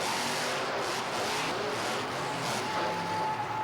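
Monster trucks Bigfoot and Barefoot race each other, giving a steady, fairly faint engine roar that swells slightly without a break.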